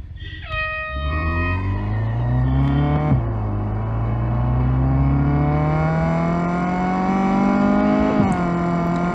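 A Ford Focus RS races in Real Racing, its engine revving loudly and climbing in pitch through gear changes, with a shift around the three-second mark and another near the end, steady and close throughout.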